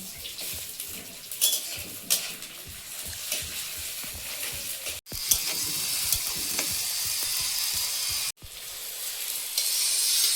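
Chopped onion and tomato frying with five-spice in a pan for chicken curry, a steady broadband sizzle with occasional stirring scrapes, briefly cut off twice, no talk.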